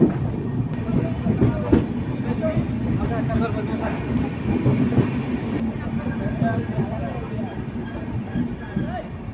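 A Jaynagar Bhagalpur Express LHB train rolls over the rails in a continuous low rumble with faint rhythmic clatter, heard from inside a 3rd AC coach at moderate loudness, with people talking over it.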